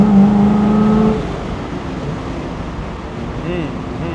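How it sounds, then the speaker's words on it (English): A 1979 Pontiac Trans Am with a 400 engine and freed-up exhaust rumbles low and steady, louder at first, then settling into a softer grumble with faint tonal whine later. "It's got a freed up exhaust system, makes a good little grumble."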